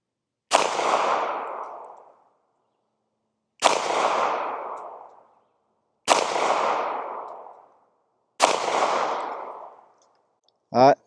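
Four sharp shots from a Ruger LCP MAX pistol fired at a target, evenly spaced about two seconds apart, each a loud close crack with a brief echoing tail, followed by a short metallic clink.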